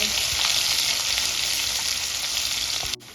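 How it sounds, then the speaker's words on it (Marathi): Finely chopped onion sautéing in a pan for shev bhaji, a steady close sizzle of frying that holds evenly before cutting off abruptly near the end. "त्यानंतर बारीक चॉप केलेला कांदा ऍड करून घेऊया इथे आपल्याला कांदा छान चॉप होईपर्यंत परतून घ्यायचा आहे"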